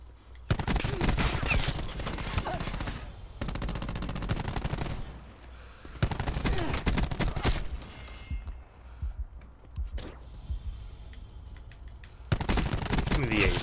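Gunfire from teammates in a Call of Duty Black Ops 4 Search and Destroy match: dense bursts of rapid automatic fire in several long volleys separated by quieter gaps, with a voice talking over parts of it.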